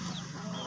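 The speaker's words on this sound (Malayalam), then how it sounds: "അപ്പുറത്തുണ്ട് കോഴി" A chicken clucks close by in a steady, busy stream of low calls filling the whole moment, with no voices over it.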